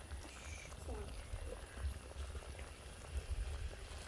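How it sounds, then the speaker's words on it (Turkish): Meat stew bubbling and simmering in a pot on a home stove, a soft continuous burble with low rumbling under faint background noise, no talk over it. "Tamam fıkırdasın bu."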